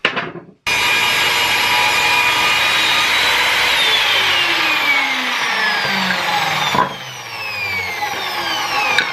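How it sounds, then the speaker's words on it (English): Broomsticks being sawn to length in a home workshop: after a short start, a loud, steady cutting noise runs unbroken for about eight seconds, with a brief dip near the end and no talking. "now to chop down the broomsticks."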